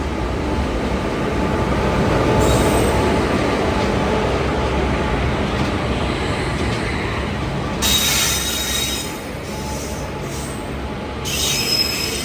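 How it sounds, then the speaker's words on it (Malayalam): An express train running from Veraval in Gujarat to Thiruvananthapuram passes close by, with a loud continuous rumble of wheels on rails and bursts of high metallic wheel squeal toward the end. "ഗുജറാത്തിലെ വെരാവലിൽ നിന്നും തിരുവനന്തപുരത്തേക്ക് പോകുന്ന എക്സ്പ്രസ്"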